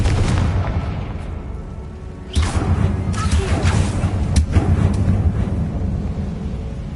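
A Confringo spell explosion in the video game Hogwarts Legacy, a deep rumbling blast that rises sharply and then sustains as a heavy low roar with scattered crackles throughout.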